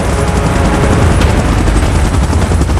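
Helicopter in the PUBG Mobile video game, a loud, steady rotor roar close up with continuous rumbling and no pauses, no talk.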